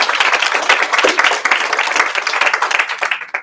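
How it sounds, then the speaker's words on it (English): Loud, close applause from an audience honoring event sponsors at a fireside chat recognizing Alaskan women entrepreneurs, brisk overlapping claps forming a dense, steady burst that cuts off abruptly. "So big round of applause for our sponsors."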